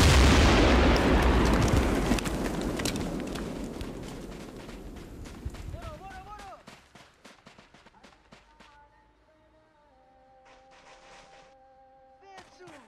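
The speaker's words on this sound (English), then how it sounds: "Grenades are being used now to clear the entrance." Grenade blasts clearing the entrance of a compound in a military video game, a loud booming explosion rumbling and decaying over several seconds, followed by scattered gunfire pops and faint tonal game sounds.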